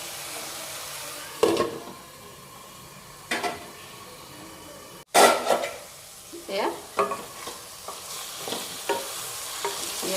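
A spoon scrapes and stirs cucumber alkali curry (khar) in a pot, with a soft simmering sizzle underneath. Irregular close stirring strokes and clinks sound alone, with no talk.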